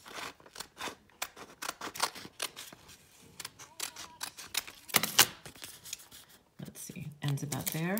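A paper bookmark being cut along its edge with scissors, a series of close, crisp snips with pauses and some soft paper handling.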